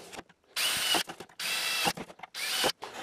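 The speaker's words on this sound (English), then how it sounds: "we're going to drill the pilot holes here and those three dents" A power drill whirs in three short bursts of about half a second each, drilling pilot holes in a greenhouse truss, separated by brief pauses with faint clicks and handling noise.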